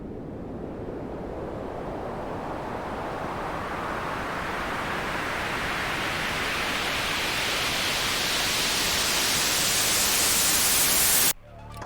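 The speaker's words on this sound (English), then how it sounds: "This is the regular white noise riser that I use all the time for different transitions." A steady wash of white noise swells gradually louder and brighter over about eleven seconds as a filter opens upward, then cuts off abruptly near the end.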